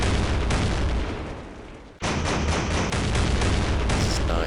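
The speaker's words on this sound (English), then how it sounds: "Oh, is it a tank shooting us?" A tank fires in the World War II strategy game West Front. It makes dense, loud rumbling gunfire bursts, briefly fades around the middle, then returns as heavy continuous battle noise.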